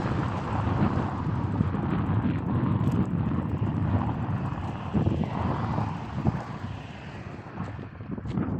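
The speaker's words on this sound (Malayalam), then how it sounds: "നല്ല കാറ്റാണ് ഫ്രണ്ട്സ് നല്ല കാറ്റുണ്ട്" Strong outdoor wind rumbles and buffets the microphone continuously, a low roaring gust sound with no speech, beside a road in Oman.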